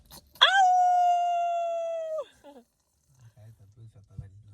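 A child imitates a wolf howl, one long sustained rising-then-steady wail lasting about two seconds, loud and close, followed by quiet low murmuring.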